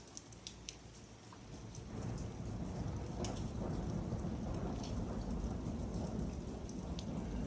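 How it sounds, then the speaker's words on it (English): Thunder rolls through a lightning storm over Kootenay Lake, a broad low rumble that swells after a few seconds and holds, over the steady hiss of rain and scattered sharp drips close by. "Oh, that was a lightning."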